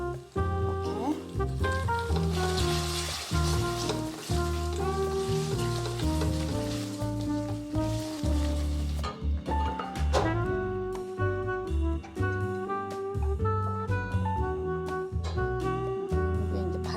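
Olive oil sizzles steadily in a frying pan while scallop pasta cooks, a soft crackling hiss that sits beneath louder background music throughout.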